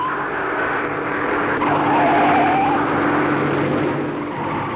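Racing cars at the Bathurst Armstrong 500 in 1965, circulating through the bends of the circuit, with rubber squealing briefly as a car works through a bend under a steady, loud engine roar.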